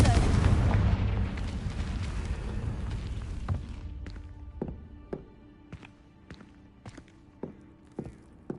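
A Confringo blasting spell explodes in the Hogwarts Legacy video game, a loud, deep boom rolling out at the start and fading. Sharp, evenly spaced thuds like footsteps follow.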